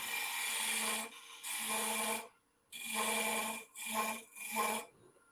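A small skew chisel cuts into wood on a lathe while preparing a hollow form, giving a loud rasping scrape in four bursts, the last ones shorter, separated by brief gaps.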